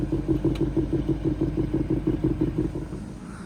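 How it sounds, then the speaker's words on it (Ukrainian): A BMW 750xi G11 LCI's 530 hp V8 idles with a deep, lumpy exhaust burble, pulsing rhythmically and steadily close by, then easing slightly toward the end. "Послухайте, як працює вихлоп."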